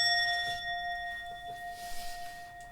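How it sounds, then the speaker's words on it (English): A bell rings with a clear, sustained high tone that slowly fades, quiet and steady, with no voices over it. "Ring the bell."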